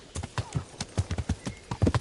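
Horse hooves clip-clopping in the medieval video game Kingdom Come: Deliverance, a quick uneven run of close, crisp steps over about two seconds with no talk.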